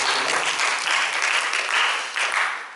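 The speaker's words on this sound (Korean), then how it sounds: "우리에게 오늘 이 귀한 말씀을 주신 우리 하나님께 박수로 영광을 돌리겠습니다." A church congregation claps together after a sermon, giving a loud, dense burst of applause that rolls steadily for a few seconds and then starts to ease off at the end.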